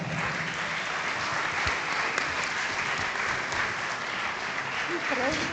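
A crowd at a Sardinian cycling celebration claps for a regional cyclocross champion, dense sustained applause for several seconds, with a voice briefly audible near the end.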